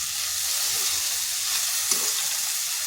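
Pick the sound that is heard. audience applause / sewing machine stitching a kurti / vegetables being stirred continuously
vegetables being stirred continuously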